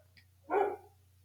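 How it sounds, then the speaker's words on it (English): A single dog bark sounds at close range, one short sharp woof standing out against a quiet room with a low steady hum. "that is my dog. I don't know why he's doing that."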